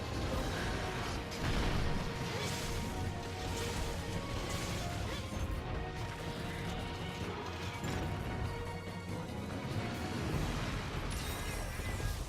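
Explosions crash and boom during a Brachydios monster fight in the Monster Hunter video game, a dense, continuous barrage of loud blasts, smashes and impacts layered over game sounds with no pause.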